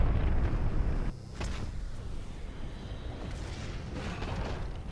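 In the War Thunder Mobile tank game, a heavy cannon boom and explosion hit hard at the start, followed by a low rumbling battle din and distant thuds, with no talk.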